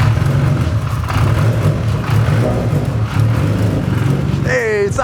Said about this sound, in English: Hey, it's idling. Is your foot on the gas? It's idling.